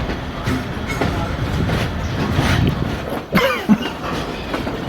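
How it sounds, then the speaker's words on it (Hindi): Railway coaches towed by a locomotive near Pindi loco shed, heading toward Rawalpindi railway station, rumble past with continuous wheel clatter and a couple of brief squeals or clanks near the end. "ये बोगीज़ हैं जिनको टो किया जा रहा है, PH टो कर रहा है।"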